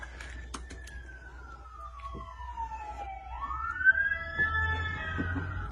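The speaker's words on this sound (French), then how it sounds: "Il y a les ambulances qui vont passer." An ambulance siren passing along a street in the States, a single wailing tone sweeping down and back up as it goes by at moderate distance, with faint traffic rumble beneath.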